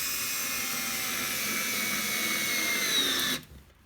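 An IKEA FIXA 3.6V cordless screwdriver runs in one steady high-pitched electric whine for about three seconds, close and alone, then stops and a quieter room tone remains.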